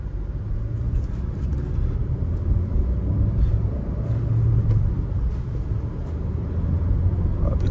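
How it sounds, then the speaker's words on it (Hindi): A 2022 Hyundai Creta accelerates toward top speed, heard from inside as a steady deep road and engine rumble that swells and eases slightly, with no voices. "अब चलते हैं गाड़ी को लेकर और चेक करते हैं इसकी टॉप स्पीड कितनी आती है।"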